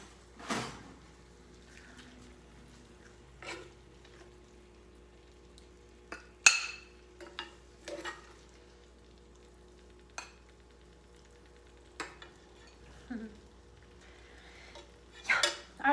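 Spoon and plate clinking as pasta alla Norma is served onto a bigger plate with a bigger spoon: scattered sharp clinks and taps spread over a quiet kitchen, a few close and loud, with no talk.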